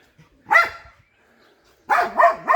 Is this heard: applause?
no